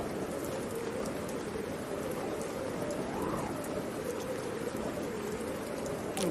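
Steady rain falling, a constant soft patter with a low rumbling wash underneath, even throughout with no voices.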